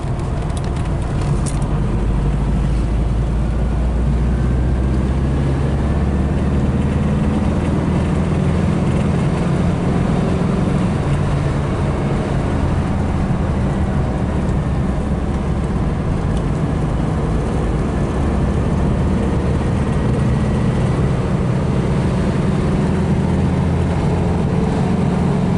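A 1970 VW Type 3 fastback coupe drives in fourth gear, its air-cooled engine droning in a loud, continuous low rumble mixed with road and wind noise from inside the car, steady throughout with no talking.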